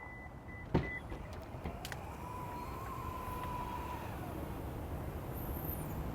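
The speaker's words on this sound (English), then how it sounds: "So now, I'd like to test the power liftgate function." Power liftgate motor of a 2020 Subaru Outback opening, a steady faint electric whir after a click, running for a few seconds at close range.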